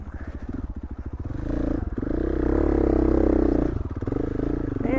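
A Beta or KTM motorcycle rides through difficult, muddy terrain, its engine loud and close, the revs climbing into a sustained high drone before dropping back to a lumpy idle.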